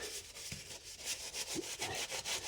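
A stiff-bristled brush scrubs dirt from a car's wheel arch around the suspension strut, with rough back-and-forth rasping strokes, close and moderately loud, and no voices.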